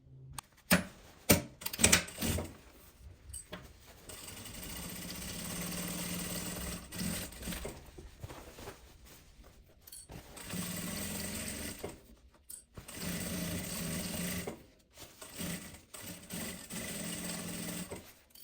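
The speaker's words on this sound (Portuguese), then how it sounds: "Vamos levar lá na máquina agora, passar uma costura de um lado e do outro" A home sewing machine fitted with a Teflon presser foot stitches seams along both sides of a large fabric travel bag, running in several sustained bursts separated by short pauses, close and steady.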